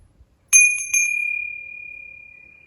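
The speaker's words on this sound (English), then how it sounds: "To remind you of the bell." A single bell is struck twice in quick succession, sharp and close, then a clear ringing tone lingers and slowly fades in an otherwise quiet space.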